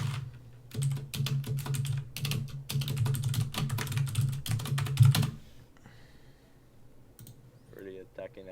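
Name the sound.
fast typing on a computer keyboard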